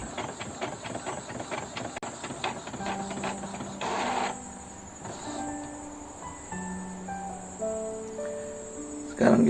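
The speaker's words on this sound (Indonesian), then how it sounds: "Sekarang kita print laporan ujian tengah semester sebagai lampiran" An office printer runs through a school midterm exam report, with whirring feed motors, rhythmic clicks and shifting mechanical tones at moderate level, no talking.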